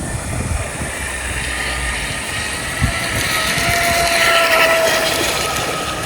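A boat engine held at about a quarter throttle on its maiden run, giving a steady, fairly loud drone with a faint high whine and wind or water rush, and no talking.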